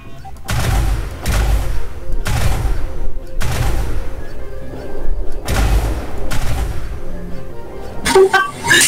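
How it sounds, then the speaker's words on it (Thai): Ship weapons in the space game Elite Dangerous fire through a full magazine in a PvP fight, a series of about eight heavy, booming shots at a steady rhythm, loud and close. "ได้ยิงไปแมกกาซีนหนึ่ง"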